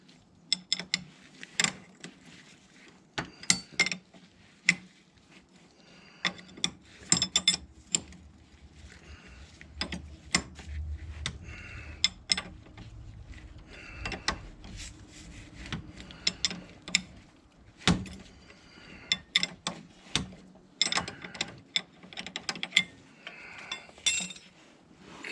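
Ratchet wrench with a 17 mm and 19 mm socket loosening the tie rod nut on a Can-Am Outlander ATV, giving bursts of metallic clicking and clinking in a quiet garage, with no talking.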